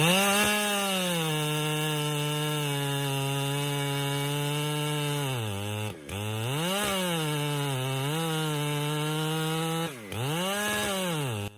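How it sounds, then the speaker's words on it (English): A chainsaw cuts into a giant tree, its engine holding a loud, steady whine that dips and revs back up several times as the blade bites, continuous and close with no talking. "The chainsaw screams through the silence, every cut echoing like a countdown."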